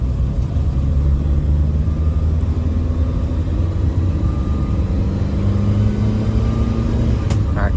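A Nissan Sunny B11 car's engine drones steadily from inside the cabin while driving, a loud continuous low rumble with slowly shifting pitch as gears change.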